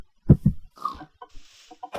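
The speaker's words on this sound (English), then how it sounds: "there seems to be a lot of chickens and stuff around" Chickens in a blocky survival video game, several short clucks and squawks in quick, uneven succession, clear and close against silence, with no talking.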